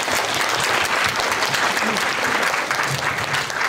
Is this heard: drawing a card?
no